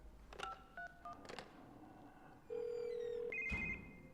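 Telephone number dialed in The Evil Within: a quick run of separate touch-tone beeps, then a long steady tone and a brief ringing warble, heard close and clear with no talking.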